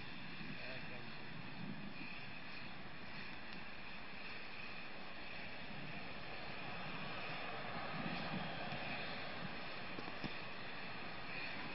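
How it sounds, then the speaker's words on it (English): Space shuttle Discovery's three main engines roar during the STS-116 launch climb, a steady, muffled, distant rumble that stays constant throughout while voice chatter runs over it. "Discovery's three engines now powering the second stage"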